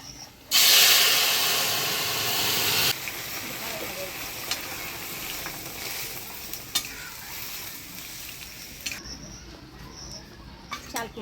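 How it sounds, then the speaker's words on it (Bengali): Boiled kalai lentils poured into a hot pan with crushed ginger burst into a loud, hissing sizzle for about two seconds, then settle into quieter bubbling with scattered stirring scrapes and taps. "এবার ফুটিয়ে রাখা ডাল দিয়ে দিব।"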